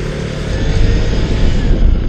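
A Voge 900 motorcycle being ridden, its engine giving a loud, steady close-up drone mixed with wind rush for about two seconds, with no talking.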